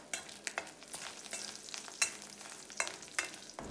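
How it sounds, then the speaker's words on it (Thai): Chopped Chinese garlic stir-fried with pork belly in a pan: steady oil sizzle under repeated scraping strokes of the spatula, each stir landing as a short sharp scrape at an irregular rhythm, close and with no voices. "แล้วก็ผัดกระเทียมของเรานะครับคลุกเคล้ากับหมูไปเลยครับ"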